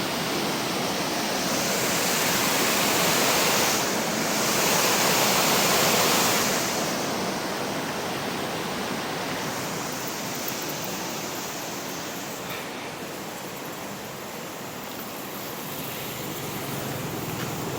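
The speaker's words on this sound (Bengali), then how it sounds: "এই দেখেন এখন গেটটা খোলা আছে কত স্রোত" River water rushing through an open barrage gate, a loud, dense, continuous roar of torrent heard close and steady throughout with no voices.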